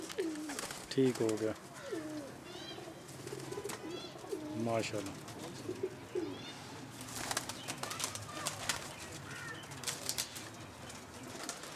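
Black-faced pigeons kept at a home in Chakwal coo repeatedly at close range, with wing flaps and a voice talking over the birds at times.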